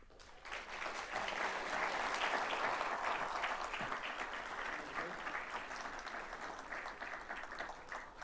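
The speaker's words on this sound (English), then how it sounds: "Let's give our marketing scholars one more round of applause." Sustained audience applause at a 2024 Gabelli School of Business awards ceremony at Lincoln Center, a dense wash of many hands clapping that swells quickly and holds steady for several seconds in a large hall.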